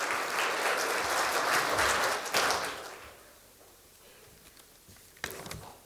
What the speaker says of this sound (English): Can I have a huge round of applause for Yuga, please?